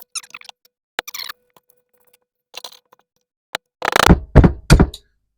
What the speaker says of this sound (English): Let's chisel it off.